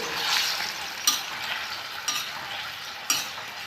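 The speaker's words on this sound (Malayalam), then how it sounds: "ഇതെല്ലാം കൂടി ഒന്ന് യോജിപ്പിച്ച് കൊടുക്കാം" Gobi manchurian is stirred and mixed in a frying pan over a soft, continuous sizzle, with three evenly spaced spatula scrapes against the pan about a second apart.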